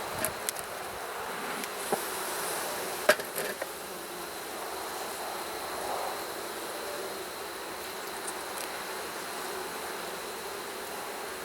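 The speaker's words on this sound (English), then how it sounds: "There's a good number of bees up here." Honey bees hum in the top box of a hive being readied for winter, a soft even buzz with a few faint clicks and knocks, no voices.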